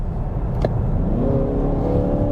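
A 2015 Mazda6 AWD with automatic transmission kicks down and accelerates, its engine note rising in a smooth, loud climbing drone heard from inside the cabin with steady road rumble beneath.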